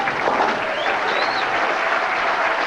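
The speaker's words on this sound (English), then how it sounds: "Enthusiastic crowd here" A bowling crowd at a professional PBA tournament applauds with steady, dense clapping that holds at an even level throughout, with no talk on top.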